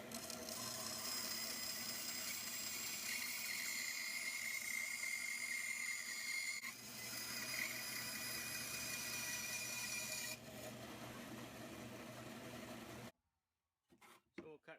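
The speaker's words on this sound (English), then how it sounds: "it puts a pretty good strain on the bandsaw" A bandsaw cuts wooden seat supports for a park bench, a steady whining, rasping buzz through the wood that dips and resumes, then stops abruptly near the end, followed by a few faint knocks.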